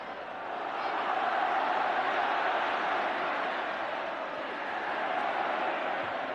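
A roaring football crowd at Brighton versus Liverpool in 1984 fills the stadium with a broad, steady swell of cheering and chanting that holds loud throughout.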